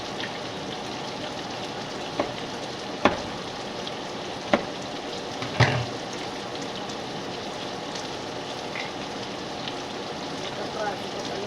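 Shrimp, onion and tofu fry in a pan with a continuous close sizzle, broken by a few sharp clatters and pops.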